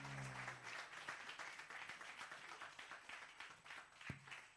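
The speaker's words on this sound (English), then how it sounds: "A round of applause" Workshop attendees give a round of applause, scattered, fairly faint clapping with individual claps standing out, a voice briefly at the start.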